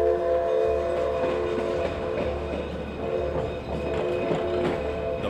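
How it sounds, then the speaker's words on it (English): Durango steam train on a winter run pulling out of town, a steady mechanical chug with low rumbling and a faint whistle-like tone, loud and continuous at close range with no talk. "the train started huffing and puffing and slowly picking up speed"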